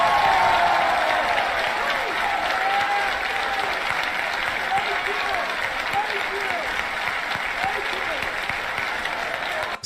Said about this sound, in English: Standing ovation for based lady.